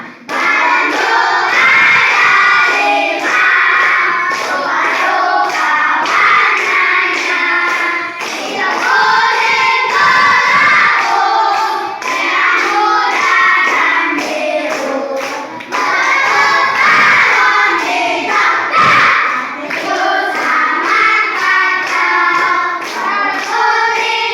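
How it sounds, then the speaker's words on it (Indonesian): Classroom of children clapping hands in steady rhythm while singing together, lively and loud throughout, with brief pauses between verses. "sama-sama kita sambil tepuk tangan ya"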